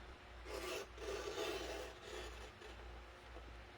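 A paper trimmer blade cutting a slit through paper gives a soft rasping scrape in a few short strokes, close and fairly quiet.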